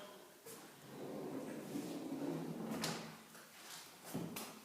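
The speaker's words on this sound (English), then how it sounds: "Watch the drawers." Soft-close drawers in a newly fitted cave house kitchen in Spain slide open and shut quietly, giving soft rolling rumbles and a few light muted knocks as they settle, close by in a quiet room.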